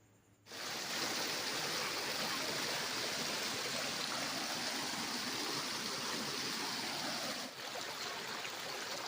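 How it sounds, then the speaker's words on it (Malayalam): A shallow, clear river with little water but a brisk flow runs close by, its steady burble starting abruptly after a brief quiet and continuing evenly with only a slight dip near the end. "വെള്ളം കുറവാണെങ്കിലും ഉള്ള വെള്ളത്തിന് അത്യാവശ്യം ഒഴുക്കുണ്ട്."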